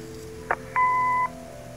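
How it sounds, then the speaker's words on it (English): An answering machine beep in the adventure game Kathy Rain: a short blip, then a sustained steady electronic tone lasting about half a second, clear over a faint background hum. "Leave a message after the beep."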